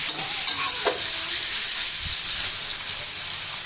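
Pork belly sizzling in a hot pan for a Thai stir-fry with bamboo shoots and red curry paste, a loud, steady hiss of frying with occasional scrapes and stirring clatter, close up and without talk.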